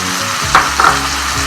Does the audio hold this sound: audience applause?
no